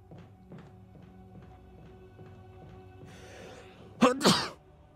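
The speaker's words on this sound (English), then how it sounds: "Hooray for sneezes." A single burst of sneezing, short and loud, two quick bursts near the end rising over a quiet background of game audio during a Resident Evil let's play.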